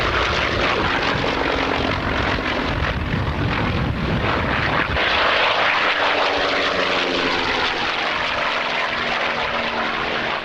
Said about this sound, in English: Now then, Morris, what's this particular aircraft?